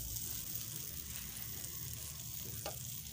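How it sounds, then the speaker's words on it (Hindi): Pav bread toasting in butter on a hot tawa griddle, a steady soft sizzle with a faint scrape near the end, close but quiet and continuous under low kitchen hum. "अब है हम बटर लगा लेंगे और उसके ऊपर जो है अपने पाव जो है हम सेक लेंगे तवे पर"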